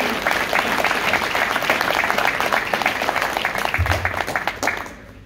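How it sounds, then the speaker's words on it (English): An audience gives a round of applause: dense, sustained clapping that holds steady for about five seconds, then breaks off abruptly. "So can we give him a round of applause as well?"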